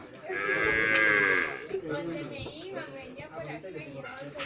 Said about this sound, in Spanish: ¿Quién es esa vaca?